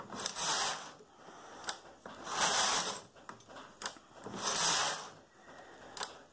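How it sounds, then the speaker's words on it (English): A Brother KH970 knitting machine carriage runs along an 892 needle bed, its mechanical clatter swelling in three long, loud passes with sharp clicks between them and no talk. "I care about the performance of the carriage. And it sure is moving smoothly."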